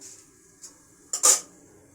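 A karahi wok being set down on a lit gas stove, heard as a faint early clink and then a sharp metallic clatter and scrape near the end, in a quiet room.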